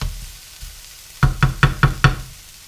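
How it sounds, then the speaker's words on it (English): Food tossed in a frying pan for fried mac and cheese, with five quick rhythmic thumps of the pan close by and evenly spaced, and no talking. "You are tossing the food in your pan"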